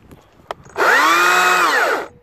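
STIHL battery-powered electric chainsaw: a faint click, then the motor whirs up into a loud, steady high-pitched whine, held for about a second before winding down, close up with no talk.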